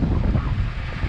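Wind buffeting a microphone outdoors at a concrete pumping job, a brief low rumbling gust with no voices.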